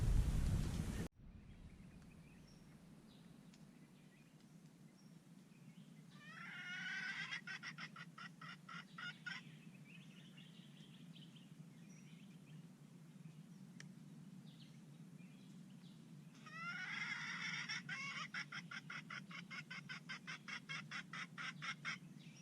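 Two bursts of rapid, repeated red junglefowl calls ring out from a distance, separated by a stretch of low rumbling background noise.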